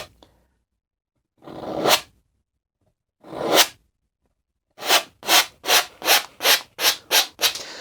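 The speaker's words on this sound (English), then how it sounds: "Just press that color in, scrape it in, there we go." Palette knife scraping oil paint onto canvas for a mountain scene: two separate rasping strokes, then a quick run of about eight short, even scrapes, close and clear with nothing else heard.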